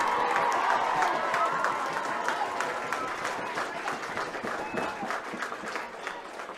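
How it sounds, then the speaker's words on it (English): A crowd at half time of the Ulster Schools Danske Bank McCormack Cup Final 2024 applauds both teams, with dense clapping and some cheering that slowly fades as the seconds pass. "Big round of applause for both sets of players"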